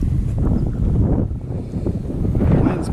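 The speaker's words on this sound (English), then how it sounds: "Wind's picking up on us here pretty bad." Gusty wind buffets the microphone outdoors during freshwater catfish fishing, a steady low rumbling roar that swells and dips over a few seconds, close and fairly loud, with no talking.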